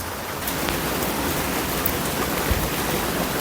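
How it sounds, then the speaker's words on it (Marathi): Heavy rain pours down in Thane, a dense, even hiss of drops spattering surfaces that stays constant and fairly close for a few seconds, with no voices. "मस्त पाऊस पडतोय जोरदार"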